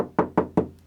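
Knuckles rap a car door three times in a steady rhythm, up close and fairly loud. Each knock rings out brighter and hollower, with a short ringing tail.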